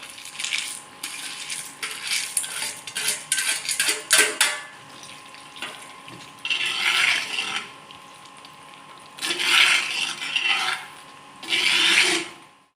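Peanuts stirred into thick, simmering tamarind gravy in a pot come through as a run of close scraping and rattling strokes, then three longer, louder bursts of rasping stirring separated by quieter pauses, with no talk.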